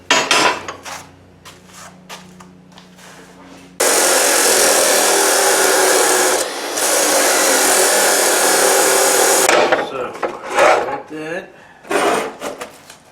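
A power tool cuts through metal tooling for a power hammer, a loud, steady grinding roar lasting several seconds after quieter clanks and handling, then breaking into intermittent bursts and tool knocks.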